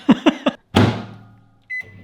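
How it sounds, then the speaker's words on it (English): A microwave oven cooking potatoes on a plate: three quick beeps as buttons are pressed, then a loud thunk and hum as it starts, fading into a low whir before a single sustained beep near the end. "these are going in the microwave on this"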